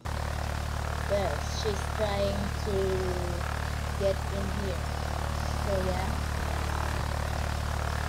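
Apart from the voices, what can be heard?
airplane propeller engine in a video game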